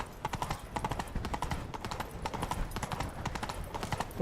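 Hooves of a galloping horse in The Witcher 3 pound in a fast, steady clip-clop rhythm, close and fairly loud, with a brief whinny mixed in.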